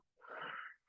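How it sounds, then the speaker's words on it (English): A single forceful exhale during a seated chair-fitness breathing exercise, a close, breathy rush of air lasting under a second, with no talking over it. "Exhale, press the air all the way back out."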